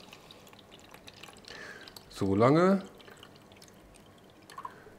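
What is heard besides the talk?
hydrogen peroxide solution poured into plant container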